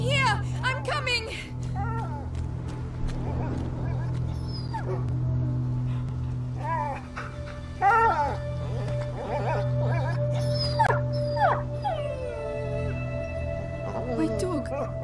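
A dog whimpering and yipping in the video game A Plague Tale: Innocence, with repeated soft whines over a steady low game ambience, close and moderately loud.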